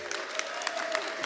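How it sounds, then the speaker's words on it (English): Brief scattered applause from an audience at a political talk on basic income, a few distinct claps over a murmuring room. "it's going to be a battle of the applause now to see how much Jamie gets"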